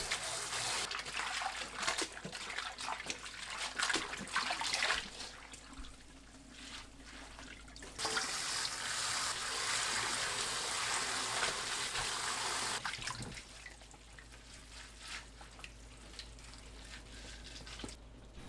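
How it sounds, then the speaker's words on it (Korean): Cold tap water runs over blanched gompi seaweed as it is rinsed, a continuous splashing trickle that swells and eases in uneven stretches, heard close. "바로 찬물에 헹굽니다. 두세 번 헹궈내세요."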